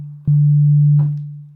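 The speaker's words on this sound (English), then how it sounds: "whenever I press a key on the keyboard, it produces just a sine wave" A synthesizer key plays a pure sine wave note, a single loud steady low tone that starts snappily, holds for under a second, then fades out smoothly, with a brief click at its onset.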